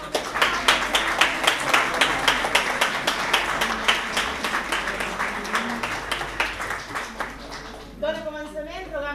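An audience at a university choir concert in a residence hall claps in a fairly rhythmic, steady round that gradually fades, ending as a voice begins speaking near the close.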